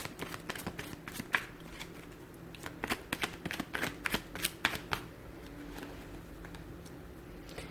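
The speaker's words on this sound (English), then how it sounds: "I'll shuffle my cards over here" Tarot cards are shuffled close by in a rapid series of crisp riffling snaps and taps, quiet overall, easing off toward the end.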